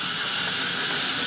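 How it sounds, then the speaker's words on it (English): Desiccant tower on an air compressor dryer cycling, heard as a loud, steady rush of hissing air that holds evenly through the moment with no voices. "That noise is a desiccant tower cycling."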